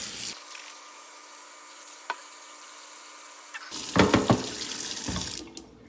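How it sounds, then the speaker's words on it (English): Tap water running into a soup pot of root vegetables, a steady hiss and splash that starts abruptly, then turns louder and more turbulent near the end as the flow shifts, with clatters of the pot. "add water. Otherwise it won't be soup."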